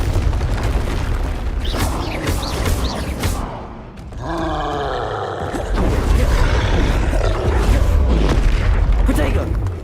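Confringo fire spell blasts in the video game Hogwarts Legacy, loud booming explosions over a dense mix of game effects, with a deeper burst around the middle and a sustained heavy rumble toward the end.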